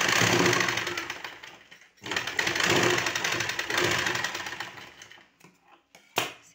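A sewing machine stitches a blouse in steady, loud mechanical bursts, with a brief pause near two seconds and a few short faint runs and a sharp final burst toward the end.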